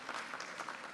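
A conference audience gives a brief burst of applause to a speaker from Pakistan, a dense patter of hand claps lasting about a second at a moderate level with no talking.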